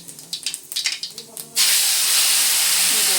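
Mustard seeds and cumin hit hot oil with a few sharp pops and crackles, then burst into a loud, steady sizzling hiss that fills the rest of the moment.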